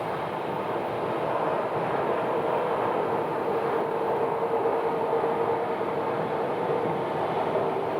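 A jet airplane, a Citation X landing at Sky Harbor airport, heard as a steady, broad engine roar with a faint whine, constant and moderately distant for the whole stretch, with no voices.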